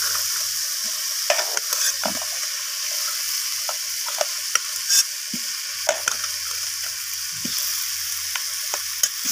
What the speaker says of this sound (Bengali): আলুগুলো দেওয়ার পর এইভাবে আমি মশলার সাথে কষিয়ে নিচ্ছি